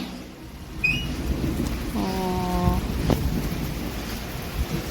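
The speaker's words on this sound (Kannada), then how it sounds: "ಮಳೆ ಸ್ಟಾರ್ಟ್ ಆಗೋಗಿದೆ" Rain falls steadily with low wind rumble, a few faint chirps early on and a short droning tone in the middle.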